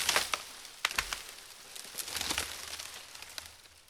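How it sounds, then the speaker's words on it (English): A tree felled with an axe comes down outdoors, a faint scattering of cracks and snaps followed by a soft rustling crash of branches, quiet and somewhat distant with no voices. "Yesterday, I felled a tree with an axe and recorded the sound of it falling."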